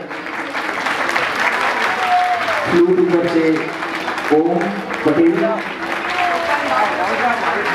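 Audience applause for musicians at a Ram Navami festival gathering in Surat, steady clapping throughout, with a voice speaking over it.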